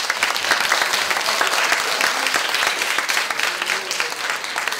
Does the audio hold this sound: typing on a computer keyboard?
no